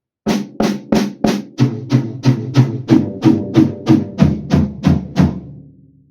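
A sequence of evenly spaced drum hits, about a dozen, moving from a crisp snare down through toms to a deeper floor tom, played alone.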